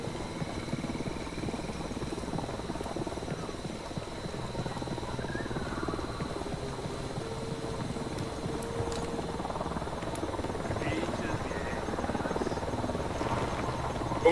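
A helicopter in Ghost Recon Wildlands, a steady distant rotor drone and engine hum holding at an even level throughout with faint ambient noise, no talking.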